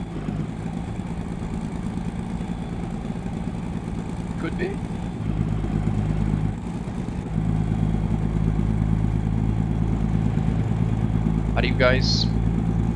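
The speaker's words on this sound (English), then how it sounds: "It sounds pretty low. My truck engine." A truck engine idles in the Euro Truck Simulator 2 game as a low, steady drone that holds throughout. Someone talks intermittently over it.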